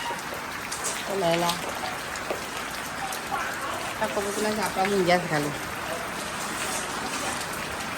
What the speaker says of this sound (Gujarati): અત્યારે હાલે વરસાદ ચાલુ છે